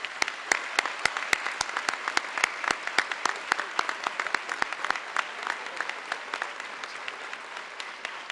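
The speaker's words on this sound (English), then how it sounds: "Let's give them a big round of applause." Applause for veterans at a school Veterans Day ceremony: sparse, distinct nearby claps ringing out in a quick irregular rhythm over a softer wash of audience clapping, thinning toward the end.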